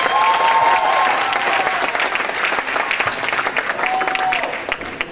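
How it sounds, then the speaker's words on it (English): Loud, dense crowd applause at a comedy show, a continuous roar of clapping with brief whistles cutting through near the start and again later. "give them a big hand, folks"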